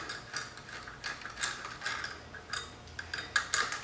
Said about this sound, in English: This is a 4mm hex head. I'm going to undo this